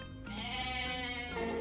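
Goats bleating in the Age of Mythology strategy game, a sustained nasal, wavering bleat that swells after a brief lead-in and holds loud and close, with a second call starting near the end.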